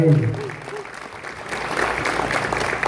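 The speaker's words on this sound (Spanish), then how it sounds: "un aplauso para ellas" An audience applauds the dancing mothers at a cultural civic forum. A voice speaks at the start, then steady broadband clapping swells from a crowd and keeps going to the end.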